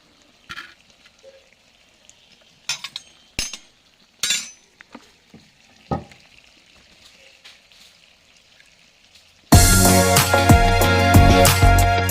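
Metal utensils clink a handful of times against a pot while fried chicken goes into a clay cooking pot, sharp isolated taps near and clear, before a loud, dense burst of sizzling frying noise takes over near the end.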